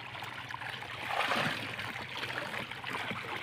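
Clean, cool water pouring from a tubewell turbine pump into a swimming pool, a steady rushing and trickling flow that swells briefly, moderately near and without talk.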